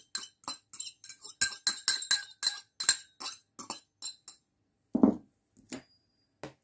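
Quick, irregular clinks of a utensil against a bowl while mixing chopped chili and garlic repeat rapidly, then thin out into a few scattered taps, with one brief low thud.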